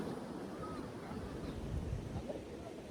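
Sea waves at Hamsaladivi beach near the Krishna river mouth wash in a faint, distant, continuous surf, blended with gusts of wind buffeting the microphone.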